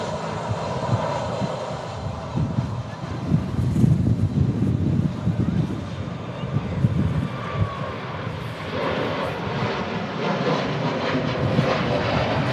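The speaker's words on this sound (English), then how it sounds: "Turkish A321 Neo blasting off just in front, back to Istanbul." Turkish Airlines Airbus A321neo taking off at Manchester Airport in strong crosswinds, a loud sustained engine roar and rumble that swells midway, with wind buffeting the microphone throughout.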